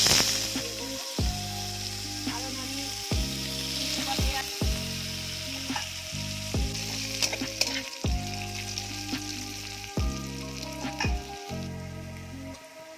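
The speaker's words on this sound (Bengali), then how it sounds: "এবার এটাকে ভালো করে ভাজা করে নেব।" Spices and dried chilli frying in hot oil in a pan for a spicy Bengali egg curry, with a continuous close sizzle and occasional stirring clicks beneath recurring musical tones.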